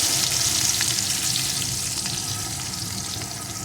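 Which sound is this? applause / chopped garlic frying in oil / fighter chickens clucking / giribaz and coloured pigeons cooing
chopped garlic frying in oil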